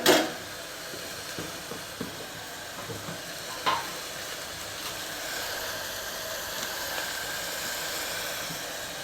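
Onions and tomatoes sauté in a pan for chicken biryani, giving a steady, close sizzle with occasional stirring scrapes and a brief louder clatter at the start, with no talking.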